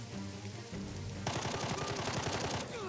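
Rapid machine-gun bursts from the turn-based tactics game Jagged Alliance 3 rattle steadily for a couple of seconds after a quieter lead-in, dense and loud with no talking.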